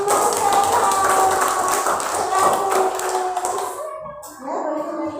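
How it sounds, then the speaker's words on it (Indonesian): Elementary school pupils clap for a classmate's group in a classroom, a brisk, loud burst of many hands lasting about four seconds, mixed with children's voices, before it stops and talking resumes. "Coba tepuk tangan untuk kelompoknya Mas Raihan"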